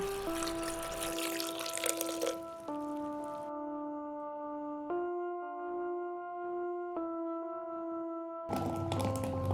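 Water splashes and pours nearby, loudest at the start and again at the very end, with steady musical tones running underneath.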